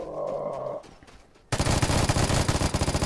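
Loud rapid bursts of M249 machine gun fire in the video game Vigor, a dense sustained rattle of shots that cuts in abruptly after a quieter stretch with faint background rumble.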